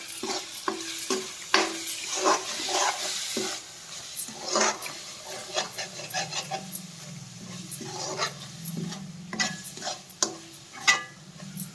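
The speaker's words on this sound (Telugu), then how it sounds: "ఇప్పుడు కలుపుకోవాలి మొత్తం" A spoon scrapes and stirs spice paste through a king fish curry in a pan, giving repeated clinks and soft sizzling, with a few louder knocks against the vessel.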